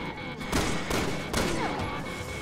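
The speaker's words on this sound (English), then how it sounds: "I tried shooting him, it did nothing." Dense game gunfire and combat noise from Resident Evil 6, a constant loud wash of shots and impacts with a few sharper bursts, close and unbroken for the whole moment, with no talk.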